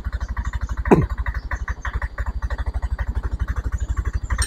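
Motorcycle engine idling with a fast, even pulsing chug, one short rev blip near the start, then settling back to a steady loud idle up close.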